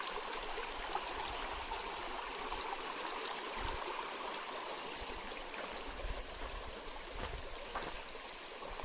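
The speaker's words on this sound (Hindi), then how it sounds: "अब नदी यहाँ आ गई है" A river flows steadily near a forest in Orang National Park, Assam, with a continuous rushing, gurgling wash and occasional low thumps, moderately close and with no talk.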